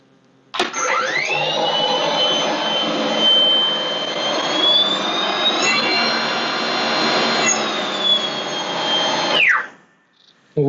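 An EGO 21-inch battery-powered snowblower runs at its slowest setting, a loud steady whine with a rising high tone for about nine seconds before spinning down, alone with no talk.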